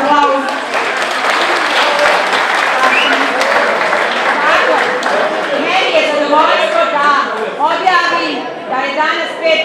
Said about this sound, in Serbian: Izvinjavam, može aplauz.